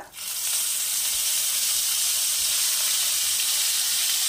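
Onion paste sizzles steadily and loudly in hot oil left over from frying fish, cooked for a Bengali aar methi fish dish, a dense unbroken hiss with no talking.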